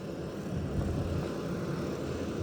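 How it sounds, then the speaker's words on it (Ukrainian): A motor hums steadily while pulling a concrete slab on a warehouse building site, a low, continuous engine drone at moderate distance, no voices. "Мотор гуде, плита тягнеться."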